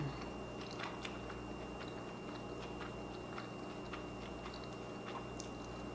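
Someone chews a bite of air fryer French toast sticks with cornflake coating and raspberries, giving close, steady crunching and soft wet mastication with no talking.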